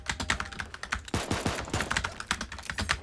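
Rapid spam clicking on a computer while playing Super Animal Royale: fast, irregular clicks and key taps in quick bursts, close and fairly quiet, with no voices.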